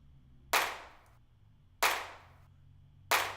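A crisp clap drum sample fires three times at an even, slow interval in a beat being built, each hit sharp and bright with a short decaying tail, alone over a faint low background.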